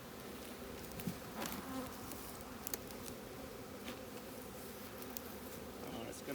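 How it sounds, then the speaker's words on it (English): Honeybees buzz steadily from an opened backyard beehive, a close, continuous droning hum with small clicks of handling, fairly faint overall. "So again, I'm gonna open up my hive."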